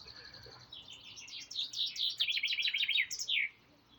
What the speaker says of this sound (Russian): за пение птиц